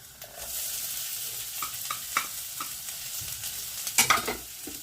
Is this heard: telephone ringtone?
no